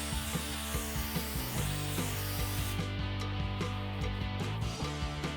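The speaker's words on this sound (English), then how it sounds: "I used a sandblaster in hard-to-reach places and treated them with a rust solvent." A sandblaster strips rust from hard-to-reach spots on a car body during a DIY Cybertruck build. It makes a steady, close, loud hissing blast that runs continuously and dips slightly in tone partway through, with no voices.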